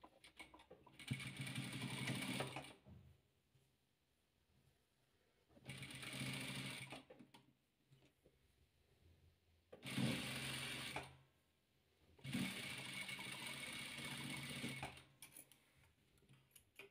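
A sewing machine stitches rows of a patchwork quilt in four loud, steady runs of rapid stitching, each lasting a few seconds, separated by short pauses of near quiet.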